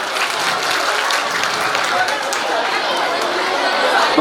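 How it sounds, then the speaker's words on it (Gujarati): An audience applauds students after their performance at a school function, a dense, steady wash of clapping that holds at full strength throughout, with crowd chatter mixed in. "જોરદાર તાળી આપણે પાડીશું"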